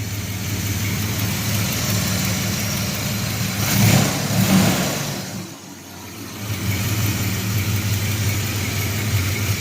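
An 1982 Chevy S10's 2.8 V6, fully warmed up, runs with a steady loud mid-low drone, swelling briefly in a mild rev around the middle before settling back to a smooth, even idle.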